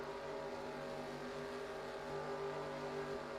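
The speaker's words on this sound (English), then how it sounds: "Listening to the engine noises here" Faint, steady engine drone holding a constant pitch, like a distant race car running at sustained speed, from a video game race at Talladega.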